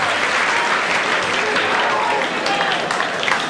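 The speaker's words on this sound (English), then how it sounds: "receiving a rather sympathetic round of applause as he's stretchered off" A rugby league cup-tie crowd at St Helens versus Whitehaven gives loud, sustained sympathetic applause as an injured player is stretchered off, a dense crowd roar of clapping from the stands.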